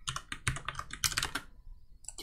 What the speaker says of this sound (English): I'm not very good today with typing